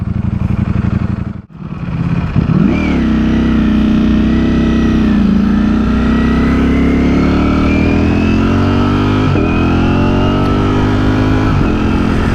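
A Ducati Streetfighter with a Brentune remap runs loud and close while being ridden on the road, its engine note rising steadily through the revs with a brief dip around a gear change and smooth sustained drive afterward, no voices.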